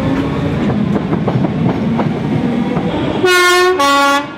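A Merseyrail train rumbles and clacks along the rails at close range near Birkenhead North, Liverpool, then its horn blares twice in two loud, sustained blasts.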